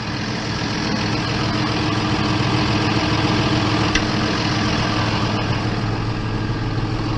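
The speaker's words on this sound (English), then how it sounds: "Quite a nice tractor this class is." A tractor engine idles steadily close by during slurry spreading, a constant low rumble with a mechanical drone and no voices.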